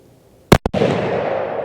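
A rifle being sighted in at the range for Pennsylvania deer season fires one sharp, loud shot, followed by a quick echoing crack and a lingering rumble of reverberation.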